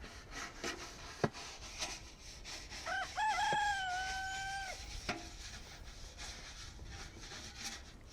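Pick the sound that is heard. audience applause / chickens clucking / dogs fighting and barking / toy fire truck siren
chickens clucking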